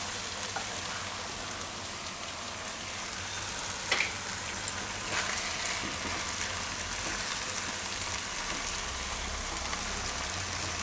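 A tempering (vaghar) for dudhi dal pulao sizzles in hot fat, giving a loud, dense, continuous crackling hiss that never lets up, with no voices over it.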